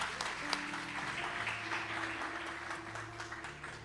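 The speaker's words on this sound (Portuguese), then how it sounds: "Vamos dar uma salva de palmas ao Senhor." A church congregation claps together in steady, moderately loud applause, with organ or keyboard tones held underneath and a few faint voices.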